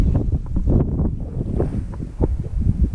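Strong wind roars and buffets at an airfield where a Volantex Corsair F4U model plane is flown, loud and gusty throughout with heavy rumbling microphone buffeting and no talk.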